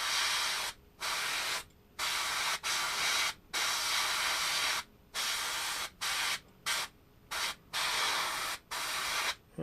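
Airbrush or spray can laying Vallejo primer onto a model, a series of short hissing bursts separated by brief pauses, close and steady, with no talking.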